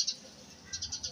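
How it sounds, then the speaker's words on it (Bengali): Faint, high bird chirps, one brief call at the start and a quick run of short tweets toward the end, over quiet background. "পাখি ডাকতেছে এখন"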